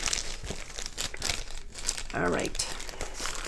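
A plastic bag from a Diamond Art Club diamond painting kit crinkles and rustles close up during an unboxing, with a person speaking briefly over it.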